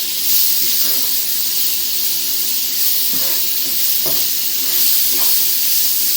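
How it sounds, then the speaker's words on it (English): Spaghetti bolognese being mixed in a hot pan, a loud steady sizzle and hiss with a few soft scraping stirs underneath. "Mix it around."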